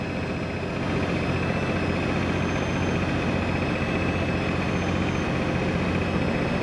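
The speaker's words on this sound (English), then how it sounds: "It's running right now, so that's what your generator does sound like." A diesel generator runs steadily on a 2008 American Coach Tradition 42F motorhome: a constant, dense engine drone with a low hum, unbroken for several seconds with no voices.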